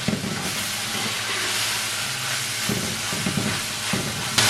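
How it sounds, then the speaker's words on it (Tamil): Green beans and prawns sautéing for a Sri Lankan bonchi piratal curry, a steady broadband sizzle and hiss with low rumbling bursts of stirring, moderately loud and close throughout, with no voices. "இப்போ ஒரு 3 நிமிஷமாக வதங்கி கொண்டிருக்குது."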